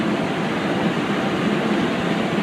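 A long mining train of rail wagons carrying rock and ore in Mauritania. A steady, dense rumble and roar fills the whole stretch with no breaks, heard from close by, with no one speaking.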